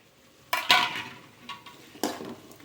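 Potatoes tipped into a pan of frying chilli powder and stirred for a spicy potato fry, giving a few sharp clatters and scraping stirs over a light sizzle, close and fairly quiet.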